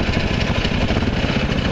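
A Predator small engine on a tiny truck runs steadily nearby, a continuous buzzing drone with a rough pulsing texture that stays at an even loudness throughout, with no other sounds over it.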